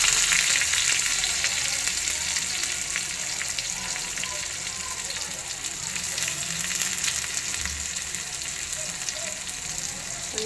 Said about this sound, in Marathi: तेल चांगलं गरम झालेलं आहे याच्यावर आपण राई जिरं बारीक चिरलेला कांदा